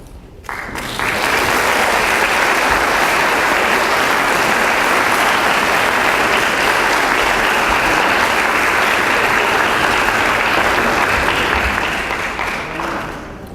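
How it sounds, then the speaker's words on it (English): Sustained audience applause fills a hall at a 2013 academic convocation, rising quickly, holding steady and loud for about twelve seconds, then tapering slightly at the end. "let's have a round of applause for all of"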